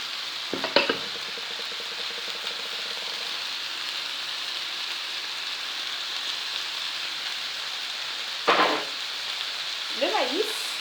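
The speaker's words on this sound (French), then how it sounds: "je vais ajouter la viande hachée" Minced meat sizzles and crackles steadily in a hot pan for a Mexican quiche, a close, dense frying hiss throughout, broken by a few clatters of stirring or utensils.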